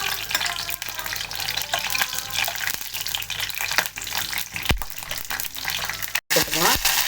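Mustard seeds, urad dal, chana dal and cumin spluttering in hot oil, giving a steady dense crackle and sizzle with sharp pops throughout. A brief dropout comes near the end.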